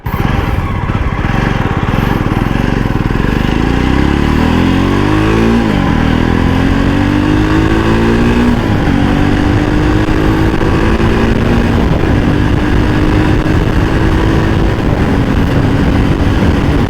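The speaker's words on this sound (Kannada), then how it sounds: "ಥ್ರಾಟಲ್ ರೆಸ್ಪಾನ್ಸ್ ಮಾತ್ರ ಕಿತ್ತರ್ಕೊಂಡು ಹೋಗ್ತಾ ಇದೆ ಗಾಡೀಲಿ" A Jawa 300 motorcycle engine revving loudly up close, its pitch climbing and falling through repeated throttle blips, then holding a raised steady drone, with no talk.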